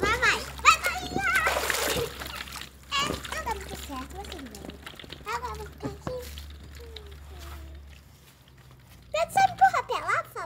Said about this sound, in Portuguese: Eu vou fazer várias ondas pra ficar aparecendo o mar.